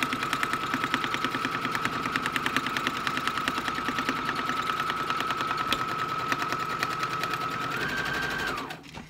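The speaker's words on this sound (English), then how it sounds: "And I'm just going to sew right down." Sewing machine stitching through book pages, a fast steady mechanical chatter with a whining motor tone running for about eight seconds, then winding down and stopping.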